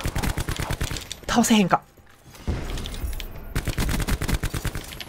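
Rapid bursts of automatic gunfire in Call of Duty Black Ops 4, loud, close, evenly spaced shots in two long volleys separated by a short lull, with someone talking briefly between them.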